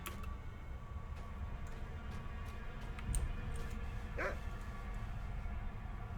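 A dog barks a few times in the middle distance in the game The Lord of the Rings Online, over a steady background hum, with faint ticking sounds scattered through.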